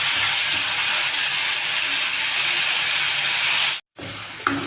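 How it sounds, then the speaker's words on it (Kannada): Two medium tomatoes sautéing in a pan for a village-style chicken dish, giving a steady, close broadband sizzle that holds loud and even, briefly cuts out, then resumes. "ಟೊಮೊಟೊ ಹಾಕಿ ನಾನು ಬಾಡಿಸ್ಕೊಂಡಿದ್ದೀನಿ"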